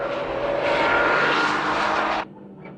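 A Honda NSX chases a Mazda RX-7 on the Tsukuba circuit, a loud roaring engine note building and holding for about two seconds before cutting off abruptly to a faint tail.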